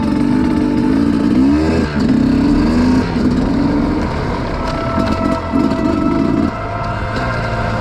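A 2021 Sherco 300 SE Factory two-stroke dirt bike on its first ride, straight from the crate, engine loud and close, revving up and down in rising and falling bursts, briefly easing off before opening up again.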